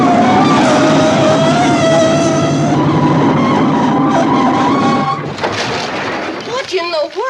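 A train braking to a stop on a track where tires have been piled: a sustained metallic squeal with a hissing, rumbling roar for about five seconds, then it eases into lighter clattering and settling sounds.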